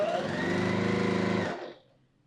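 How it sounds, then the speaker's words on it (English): A sewing machine runs in one steady close burst, stitching quilt squares together, its fast mechanical whir holding for about a second and a half before stopping abruptly, with no talking. "I'm just going to just keep sewing these two together."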